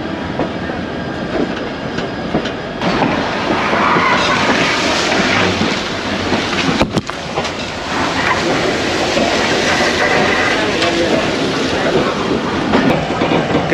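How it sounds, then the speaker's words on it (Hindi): A KCR local train rolls into a platform at Karachi City railway station, a loud, continuous roar of wheels and carriages with rhythmic rattling that holds for the whole stretch. "जैसे ही ट्रेन एंटर हो रही थी प्लेटफॉर्म पे"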